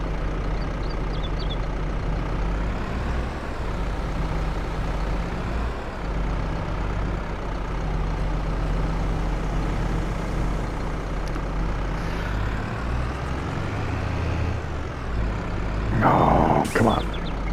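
Truck traffic in Farming Simulator 22 on PS5 produces a dense, continuous engine rumble with idling and air-brake-like hisses, loud and steady throughout, with a brief sharper burst near the end.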